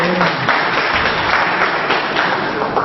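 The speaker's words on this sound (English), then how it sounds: "Could we have a round of applause for Mrs. Shashore?" A debate audience claps loudly and continuously in a hall, a dense, even round of applause from start to finish.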